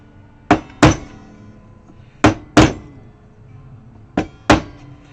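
A hammer taps the body of a custom RG3EX electric guitar set up in drop C, six sharp, close knocks falling in three quick pairs with short ringing decays and quiet gaps between.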